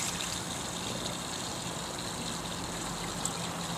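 A small gold concentrator runs with water flowing steadily over its mat, a soft continuous trickle and gush with a low motor or pump hum underneath, faint and even throughout.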